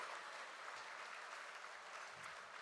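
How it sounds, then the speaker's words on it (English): An audience at an innovation awards event gives a round of applause, a dense, fairly quiet patter of many hands heard from a distance, steady from start to finish without voices. "Can we give a round of applause to Joy Ofodu?"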